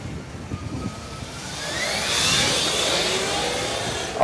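An Agility Saetta, a British-designed electric motorcycle, rides past with a smooth whine that swells from faint to a steady rush and then fades, with no engine pulses and no voices.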